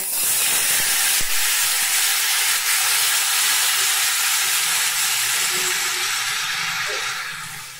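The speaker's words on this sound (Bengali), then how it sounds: "তো দেখো আমার মশলাগুলো সমস্ত কষানো হয়ে গেছে, তো তেল ছেড়ে ছেড়ে দিচ্ছে। এইবার এই সময়টাতেই আমি দেখো পরিমাণ মতো জল দিয়ে দেবো।" Water poured into a pan of oil-fried spices sets off a loud, continuous steamy hiss and sizzle. It fills the whole span and fades slightly toward the end, with no talking.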